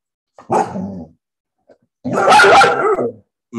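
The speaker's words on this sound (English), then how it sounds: "dog is mad about me having food" A dog barks angrily nearby at its owner who is eating, two loud bursts of barking and growling a moment apart, with a short yip between them and another bark starting at the end.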